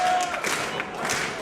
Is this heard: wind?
no